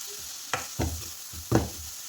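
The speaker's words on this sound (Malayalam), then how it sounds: "അതുകൂടി ഇട്ട് കൊടുത്ത് ഒന്ന് വഴറ്റി കൊടുത്ത്" Chickpeas frying with vegetable masala in a pan for a coconut-milk chickpea curry, three short scraping stirs over a soft background sizzle.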